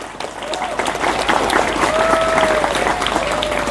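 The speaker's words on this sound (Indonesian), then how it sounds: "Tepuk tangan untuk dunia pesantren." A crowd at an Islamic religious lecture claps in a full, continuous round of applause for the pesantren, with scattered voices calling out over the clapping.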